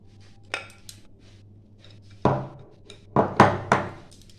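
A cake tin lined with paper and filled with eggless vanilla batter is tapped against a counter to settle it. There is one light knock, then a firmer one, then a quick cluster of three or four sharp thuds close up with quiet gaps between.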